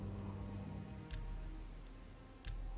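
The Healing Rain spell in Oblivion: Shivering Isles pours a soft, steady patter of game rain, with a couple of brief crackling bursts on top, fairly quiet and continuous.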